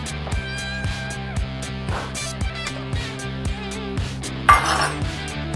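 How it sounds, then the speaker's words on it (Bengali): Metal spoon stirring fruit custard in a pot, scraping and clinking against the sides in a steady repeated rhythm, close and fairly loud with no talk. "এরকম করে নাড়তে হবে, ঘন ঘন আপনাকে নেড়ে যেতে হবে"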